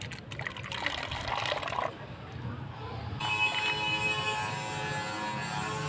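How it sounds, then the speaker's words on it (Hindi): A small amount of water is poured into a plastic bottle being made into a mini bottle cannon, a close trickling and splashing that shifts to a steadier filling sound partway through. "और इसमें पानी डालना है थोड़ा सा।"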